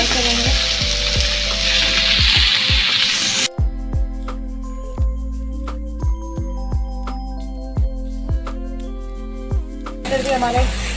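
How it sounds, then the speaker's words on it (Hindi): Tomato and chili fry in a pan, giving a loud, close sizzle, with sharp clinks of a utensil against the pan in between and a quieter stretch in the middle. "टमाटो और चिली को अच्छे से हम फ्राई करेंगे।"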